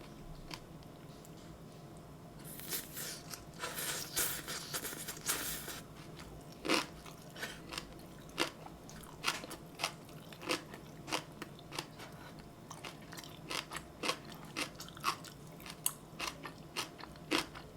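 Someone eating bibimbap made without sesame oil, with close, crunchy bites and repeated chewing clicks in a steady rhythm. The sound starts with a denser burst of crunching, then settles into individual crisp chews with quiet pauses between them.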